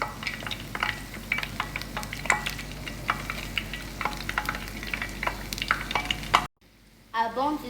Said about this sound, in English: Make sure you fry on a low heat.